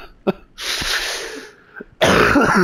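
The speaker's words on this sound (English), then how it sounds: "it's just I can't laugh without coughing" Coughing fits broken up by laughter, with harsh wheezy bursts near the start and a loud rasping burst at the end, heard close and without any clear speech.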